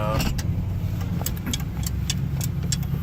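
A 1959 Cadillac sedan's engine runs steadily at a low idle while the car is maneuvered out of a garage, with a constant low rumble and some sharp clicks and ticks over the top.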